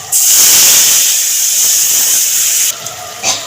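Moong dal is poured into a hot pan of tempered spices, bursting into a loud, sustained steam hiss that holds for a few seconds before abruptly dropping away, followed by a brief smaller hiss.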